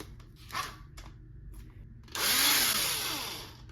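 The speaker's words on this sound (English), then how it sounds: "You're going to just insert it into your drill" A power drill fitted with an abrasive scrub brush whirs up loudly after a few faint clicks and knocks, its steady high buzz then slowly easing off near the end.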